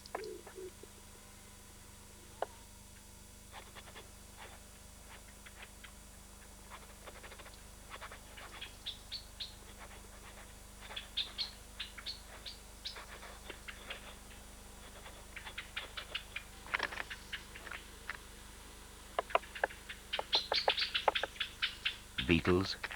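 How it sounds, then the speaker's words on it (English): A woodpecker tapping and chipping at a tree trunk in British woodland, irregular dry knocks and clusters of quick taps that grow busier and louder toward the end, faint over a low steady background hum. "The bird taps at the trunk to detect tunnels and cavities beneath the surface,"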